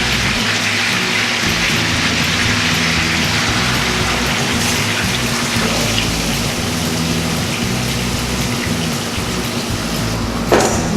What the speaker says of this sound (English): I'm gonna pour the marinade in